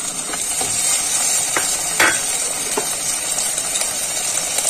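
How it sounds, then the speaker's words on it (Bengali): Chopped tomatoes and onions fry in hot oil for bitter gourd mustard pakora, with a close, steady sizzle and a few light, scattered stirring clicks and scrapes. "টমেটো কুচুগুলো এর মধ্যে দিয়ে দেবো"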